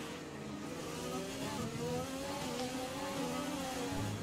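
Formula 1 car in the racing game F1 2020 accelerating hard with the overtake boost engaged, a continuous high-pitched engine whine rising steadily and held loud throughout.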